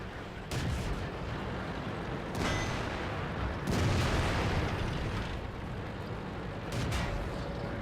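Tank cannons fire in a tank battle video game, with several heavy booming shots spaced a few seconds apart over a continuous low rumble.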